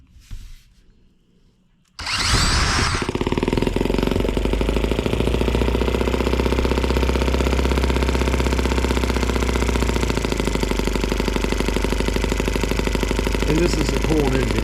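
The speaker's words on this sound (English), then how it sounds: "And this is a cold engine, guys." After a brief quiet moment a cold Suzuki M12B engine running on alternative fuel starts up and settles into a loud, steady, buzzing run with a rough mechanical clatter, heard close.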